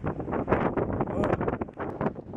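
Strong gusty wind, blowing ahead of a severe thunderstorm with 60 mph gusts forecast, buffets the microphone in loud, uneven rushes, and a voice speaks briefly under it.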